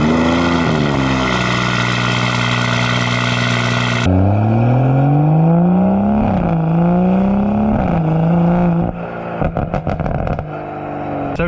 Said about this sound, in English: So driving the 2019 M140i